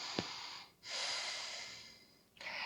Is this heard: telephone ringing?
no